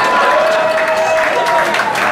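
A crowd claps and cheers at a drag show, applause rising briefly under the host's loud talking, lively and close in a busy club setting.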